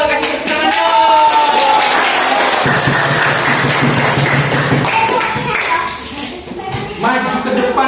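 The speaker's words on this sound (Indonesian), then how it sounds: "Kasih tepuk tangan dong" A primary school class claps hands together in a classroom over lively talking and children's voices, the clapping fairly loud and close.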